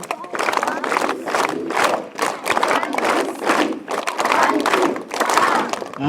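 A group of children clap in unison in a counted rhythmic pattern, repeated bursts of claps in quick groups with short pauses, close and loud, with voices and a leader's counting mixed in.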